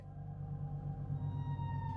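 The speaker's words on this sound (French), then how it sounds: "En 1997, des scientifiques de la NOAA ont enregistré un son dans l'océan Pacifique." A low, droning underwater sound from the Pacific Ocean, the unidentified Bloop recorded by NOAA hydrophones in 1997, heard as a steady rumbling hum with faint pulsing, alone and moderately quiet.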